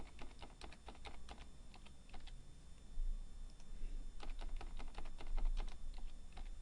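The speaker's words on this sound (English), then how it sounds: "I'm going to enter in a new password" A new password is typed on a computer keyboard in quick clusters of light, close key clicks, with a brief pause between two bursts of typing.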